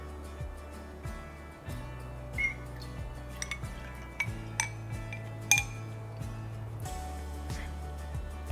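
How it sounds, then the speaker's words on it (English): A utensil stirs a vegan chia pudding base in a bowl, making repeated light clinks and taps against the sides in an uneven rhythm. The sound is close and fairly quiet, with no speech. "Give it a stir until it's well combined"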